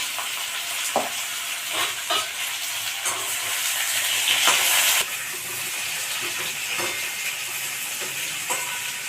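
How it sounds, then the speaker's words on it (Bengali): Rohu fish frying in a pan with salt, a steady broadband sizzle throughout with a few sharper spatters and clinks, close and moderately loud, no talking. "এবার আমি একটু নুন দিয়ে দিচ্ছি ভাজতে ভালো হবে"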